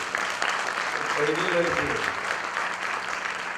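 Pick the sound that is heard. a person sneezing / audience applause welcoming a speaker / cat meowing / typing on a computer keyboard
audience applause welcoming a speaker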